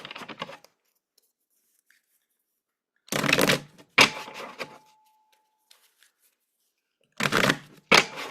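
Tarot cards are shuffled in several quick riffling bursts separated by silent pauses, crisp and close.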